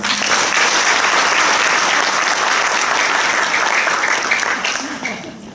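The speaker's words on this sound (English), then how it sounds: "Please give them a round of applause" A large audience at a business opportunity and success-sharing event in Singapore gives a loud, dense round of applause that holds steady and then tapers off near the end.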